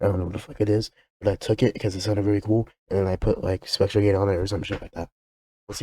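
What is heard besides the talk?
No distinct noise like a dog, phone or traffic.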